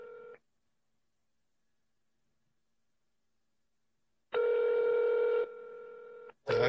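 Telephone call tones on a phone line, a brief tone, several seconds of silence, then a long steady ringback-style tone that drops in level, followed by another tone starting at the end.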